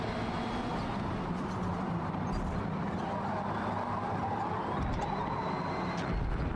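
Race cars driving on a track in Forza Motorsport, a continuous blend of engine drone and tire roar from several cars close together, steady and loud throughout.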